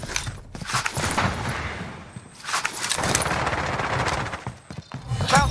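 Gunfire in Warzone, a loud burst of rapid automatic shots in close succession, broken by short pauses and repeated bursts.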